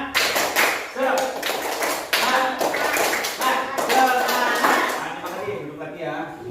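A class of students repeats a rhythmic spirit clap: bursts of crisp, patterned claps in quick succession, mixed with group chanting voices, fairly close and lively throughout.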